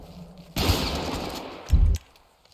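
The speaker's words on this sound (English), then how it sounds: "He's shooting." Gunshots from a suspect in GTA V, a harsh burst of rapid fire lasting over a second, followed by a short, louder volley, then quiet.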